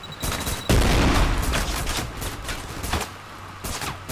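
Bursts of SMG fire from the shooter game Trepang2, loud, dense and close, with rapid repeated shots and short pauses between volleys.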